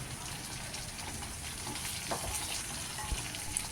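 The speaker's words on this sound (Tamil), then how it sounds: "கீழேருந்து நல்லா பாத்திரத்தில் நல்லா கிளறி விட்டுட்டு வதக்கிக்கலாம்" Vegetables for a large batch of sambar rice being stirred and sautéed in a big pot: a steady, close sizzle of frying with scraping stir sounds and a few soft knocks, no talking.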